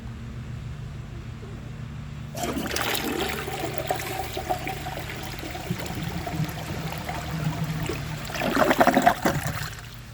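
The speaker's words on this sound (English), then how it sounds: "So I'm going to give this another flush and see if it can take the rest of that." A 2000 Universal-Rundle Atlas toilet flushes with a sudden rush of water that swirls steadily, then surges louder near the end as the bowl drains; close and loud, no talking.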